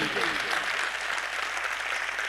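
Audience applause at a national poetry gathering (kavi sammelan) marking Kargil Vijay Diwas, a steady wash of clapping that holds at an even level for a couple of seconds.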